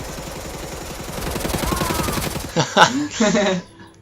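Rapid automatic gunfire from Wolfenstein: The New Order rattles continuously for a couple of seconds. Heavier bursts and impacts follow as the firing stops, then the sound trails off.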